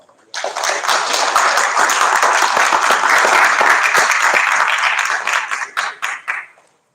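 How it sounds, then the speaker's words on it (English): At a high school Wall of Fame ceremony, an audience applauds the master of ceremonies, loud close clapping that swells quickly, holds steady for several seconds, then breaks into a few scattered claps before fading out. "let's have a nice round of applause"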